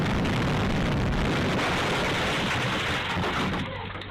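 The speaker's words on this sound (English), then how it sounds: "the bus, when it hit the house, sounded like another explosion" A city bus crashes into a house, a loud sustained roar of impact and crunching debris that fades slightly toward the end.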